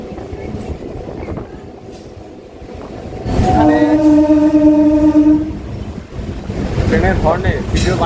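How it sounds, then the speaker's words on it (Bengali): A local train horn sounds loud and sustained for about two seconds in the middle, with train rumble and wind throughout, on a rail line through dense housing on the Ranaghat to Krishnanagar route via Shantipur. "হর্নে ভিডিও বানানো মুশকিল হয়ে যাচ্ছে, প্রচুর হর্ন মারতে ট্রেনে"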